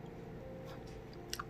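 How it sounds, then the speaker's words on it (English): Someone chews a bite of pork chop close up: quiet, soft wet squishing and faint crunches with a couple of brief sharper clicks near the end, no talking. "Let me chew my pork chop."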